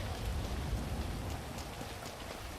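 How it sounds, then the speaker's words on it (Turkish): Steady rain pours down in the video game GTA 5, a dense continuous hiss of falling drops that stays loud and even throughout with no voices. "Abi ıslanıyorum yağmur başladı"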